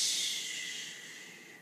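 A person's voice imitates a big snore with a single close, breathy, hissing exhale that fades out.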